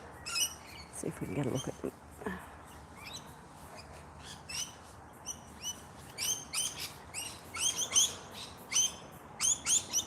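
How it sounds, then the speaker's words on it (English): Small lorikeets shriek and chatter in flowering trees, with sharp repeated squawks in irregular bursts, sparse at first and then busier and louder, while someone speaks briefly early on. "these are lorikeets, noisy bunch"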